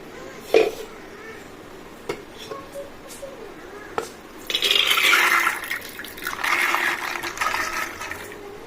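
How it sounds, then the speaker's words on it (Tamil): Soaked black chickpeas are tipped with their soaking water into a pressure cooker, a few faint clinks followed by a sustained splashing pour in two surges, with a voice talking quietly in the background. "அப்படியே இந்த தண்ணியோடையே நம்ம குக்கரில் போட்டுக்கிடலாம்"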